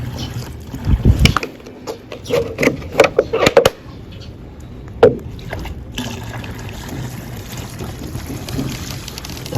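Water poured into a container while mixing Demolition X weed killer outdoors, with uneven splashing and trickling in several bursts, then a quieter steady background.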